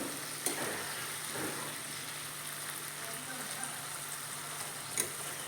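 Pumpkin and prawn fry in a pan with a soft, steady sizzle, punctuated by a couple of light clinks and scrapes as the mixture is stirred, fairly quiet and close.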